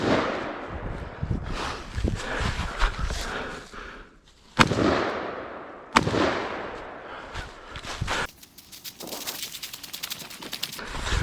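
Rifle fire on a 2-gun shooting competition stage: a run of sharp, loud shots with two especially prominent cracks standing out from a busy, noisy outdoor background.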